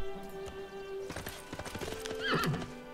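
Hooves clip-clopping followed by a clear whinny from a Mameluke horse unit in Civilization 6, short and close, with a soft musical background underneath.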